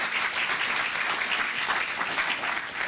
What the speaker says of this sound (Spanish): Can someone give him a strong applause?